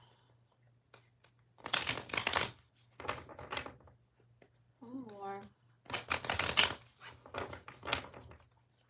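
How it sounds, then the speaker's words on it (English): Tarot cards riffled and shuffled in several quick bursts up close, with a short spoken phrase between them and a low steady hum underneath. "I just gotta do a couple of shuffles"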